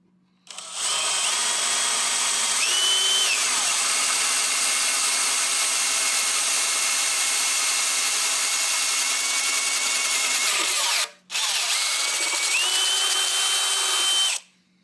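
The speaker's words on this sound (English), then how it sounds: "Now we got a much bigger drill bit." A power drill with a large bit whirs loudly and steadily for about ten seconds, stops briefly, then drills again for a few more seconds, close up.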